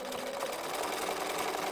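An embroidery machine stitches steadily, its fast, even mechanical chatter running close and loud without a break for the whole stretch.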